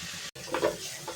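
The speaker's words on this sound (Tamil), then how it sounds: "இப்போ இந்த காயும் போட்டுடலாம். நல்லா வதங்கட்டும்." Vegetables and tomato sautéing in a pan for a kids' pasta dish with egg, a soft steady sizzle with brief stirring scrapes, close and moderately quiet, no talking.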